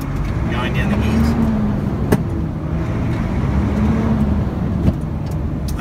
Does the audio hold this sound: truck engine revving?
yes